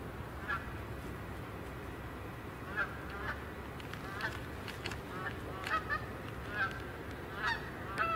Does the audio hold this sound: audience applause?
no